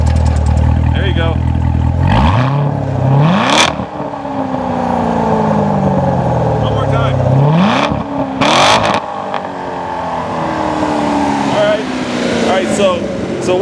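A 2014 Chevrolet Corvette Stingray with its 6.2-liter V8 in track mode revs hard twice, each blip rising sharply with a loud exhaust bark, then dropping back to a rumbling idle up close.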